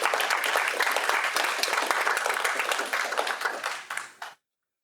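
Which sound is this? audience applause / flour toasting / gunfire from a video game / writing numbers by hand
audience applause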